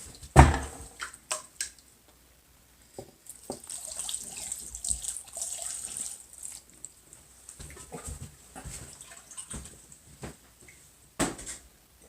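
Water running from a kitchen tap while cooking instant ramen noodles: a soft steady rush of flow with a few splashes and clatters, fairly close and moderately quiet.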